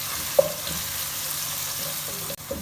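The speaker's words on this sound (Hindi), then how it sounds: "1 मिनट तक लहसुन अदरक को फ्राई करने के बाद" Grated garlic and ginger fry in a pan for a chicken curry, giving a soft, steady sizzle broken by a few small clicks and taps.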